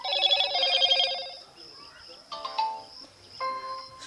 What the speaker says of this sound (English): here select default notification sound. Just select, and here select any tone.